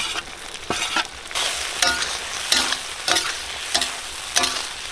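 Chopped large onion frying and being stirred in a pan for a spicy mutton bone pepper fry, with a steady sizzle broken by regular scraping stirs about every second, close and alone with no talk.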